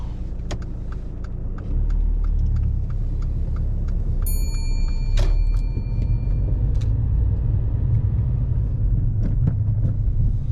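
A car pulling away during a mock driving test in Ashford, London, heard from inside as a steady low engine rumble that rises and holds, with a few faint clicks and a brief electronic tone.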